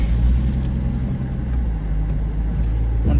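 A Nissan Fairlady Z rolls out over a driveway gutter, its engine giving a steady, close, loud low rumble that holds throughout with slight surges.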